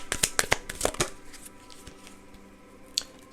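A deck of oracle cards is shuffled close by, with a quick burst of crisp riffling flicks followed by quieter handling and one last soft snap.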